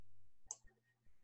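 A single sharp computer mouse click, alone in a quiet room.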